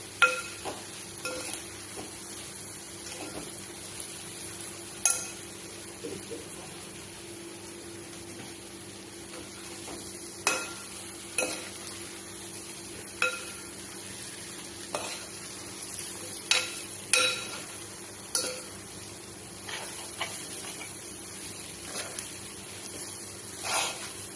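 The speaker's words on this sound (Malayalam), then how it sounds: "ഇതൊക്കെ ഇട്ടിട്ട് ഒന്ന് ഇളക്കിയിട്ട് മൂടി വെക്കട്ടെ" A spoon stirs chicken biryani ingredients in a pot, giving repeated scraping knocks at an irregular pace over a steady low sizzle and hum, close and moderately loud with no talking.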